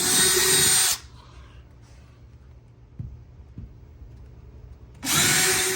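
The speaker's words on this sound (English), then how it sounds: "So now I'm gonna go ahead and just make my holes a little bit bigger here." A power drill whirs loudly in two bursts while enlarging holes in drywall with a bigger bit, one at the start and one at the end, with a quiet stretch and a couple of soft knocks between.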